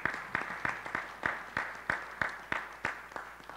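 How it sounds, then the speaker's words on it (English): Audience at a public census hearing applauds, a steady, moderately loud patter of many hands with regular sharper claps on top, continuing throughout without talk. "We can give her a round of applause."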